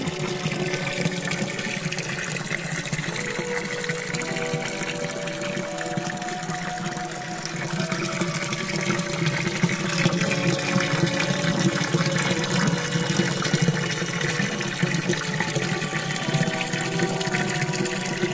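Spring water gushing steadily through a half-inch pipe-like channel at a dry-season spring, a continuous close rushing and splashing flow that holds level for the whole stretch, with no voices.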